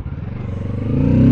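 A 2024 Kawasaki Ninja 650 motorcycle being ridden, its engine a loud, close, pulsing drone that climbs steadily in pitch as it accelerates, with some clattering underneath.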